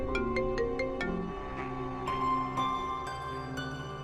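A mobile phone rings indoors with a melodic electronic ringtone, a run of quick bright notes followed by slower repeating tones, moderately soft and heard alone.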